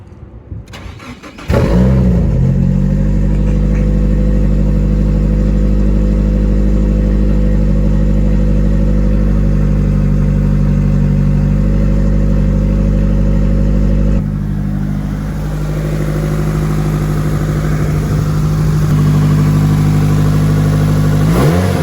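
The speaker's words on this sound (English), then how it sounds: "So we're gonna go ahead and start the car." A car with an SR20 engine and new turbo cranks and fires after a short quiet start, then idles loudly and steadily, dipping briefly before settling into a rough, throaty idle, close up.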